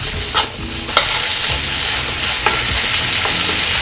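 Eggplant stir-frying with oyster sauce, Cheongyang chili and scallion, a loud close sizzle broken by repeated clacking stirs of a spatula in the pan.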